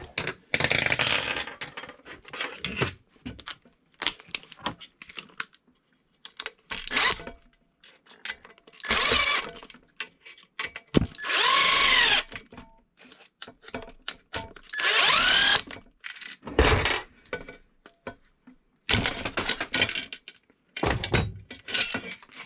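A power drill drives stainless steel bolts into plastic for an Arrma Kraton 8S wing mount in repeated short, loud whirring bursts, with rattles and handling noises between runs.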